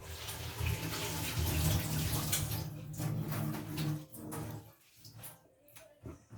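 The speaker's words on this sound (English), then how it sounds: "I'll wash my hands again." Hands being washed under a running kitchen tap while preparing egg sandwiches on soft milk bread, a steady close splash of water that thins out and turns to scattered drips toward the end, no talking.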